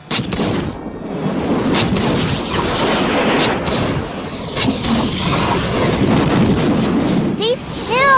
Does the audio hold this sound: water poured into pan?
no